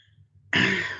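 A single sharp cough or throat clear bursts in halfway through after near silence with a low murmur, loud and close, then trails off.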